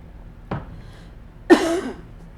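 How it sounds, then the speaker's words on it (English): A person with a tickle in the throat coughs, a short faint hack followed a second later by a louder, harsher cough in an otherwise quiet room. "I don't want to cough the rest of the time"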